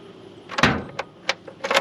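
Trunk of a fire-damaged Buick Electra 225 being unlocked with a key and lifted open: a heavy metallic clunk of the latch, then a few sharp clicks and rattles, close and fairly loud with no talking.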